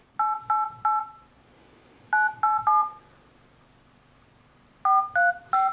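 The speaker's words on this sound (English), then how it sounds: "we're going to call the Samsung support line" Touch-tone keypad beeps sound as a number is dialed on a Droid Charge 4G phone to reach Samsung support, three groups of three quick tones separated by short pauses, clear and close.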